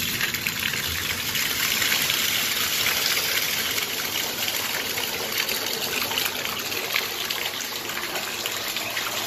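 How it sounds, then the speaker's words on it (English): Steady, full gush of hot spring water pours continuously into a waterfall, a dense even rush with no pauses. "we're gonna turn on the hot springs water"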